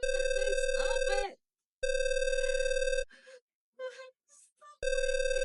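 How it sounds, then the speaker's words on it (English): Telephone ringing in long steady electronic bursts separated by pauses, loud and close, with a voice heard speaking over the rings. "Stop ringing."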